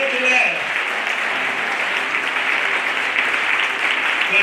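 A church congregation applauds in steady, dense clapping that holds loud and even throughout, with no pause.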